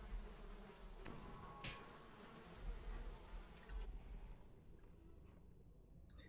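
Constant insect-like buzzing of bees in a raid video game, a dense steady drone that fills the sound and drops in brightness toward the end, with no talking.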